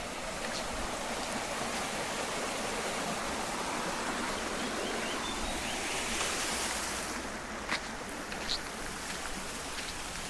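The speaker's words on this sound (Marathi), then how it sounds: "आणि इथे पाणी बाकी ती वाहते" Steady, broadband rush of water flowing through a culvert in the Konkan countryside, loud and continuous throughout, with a few faint clicks near the end and no voices.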